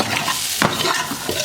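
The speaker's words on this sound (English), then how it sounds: "But it doesn't take much for the garlic to get sauteed." Garlic and onions sautéing in a pot for curry goat, with a steady close sizzle and a few stirring scrapes of a utensil through the pan.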